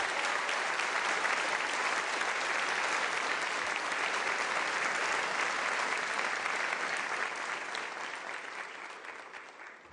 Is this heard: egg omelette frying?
no